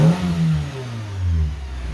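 A car engine gives one quick throttle blip, a short rev that rises and falls back to a low idle rumble, close by and fairly loud.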